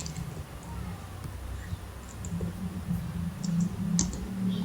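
Computer keys click as Ctrl C and Ctrl V shortcuts are pressed, giving a few sharp, close taps over a steady low hum, with no one speaking.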